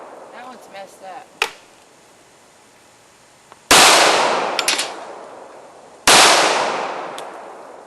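Gunshots ring out at an outdoor shooting practice with .357, .45 ACP and .22 LR firearms: a sharp crack early on, then two loud, close blasts with long ringing decays a couple of seconds apart, and brief voices before the shots.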